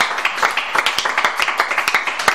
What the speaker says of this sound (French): Donne une acclamation, Seigneur Jésus.